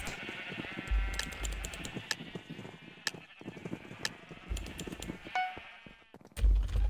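Sheep bleat in Minecraft, where the players are shooting sheep including a pink one: several short bleats scattered among sharp clicks and ticks, with a soft rumble underneath.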